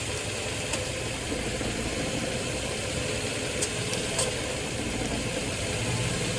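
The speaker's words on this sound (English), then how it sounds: "So there, the compressor is on. It's running right now." A Nissan Xterra idling with its AC compressor engaged gives a steady, close mechanical hum and rumble, continuous and even with only faint ticks over it.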